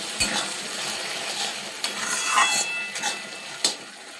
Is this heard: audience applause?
no